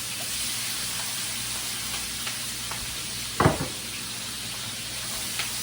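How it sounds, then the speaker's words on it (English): Tomatoes and seasoning sauté in a pan for a Jamaican red herring dish, a steady low sizzle running throughout with one brief louder clatter of stirring midway. "I'll saute."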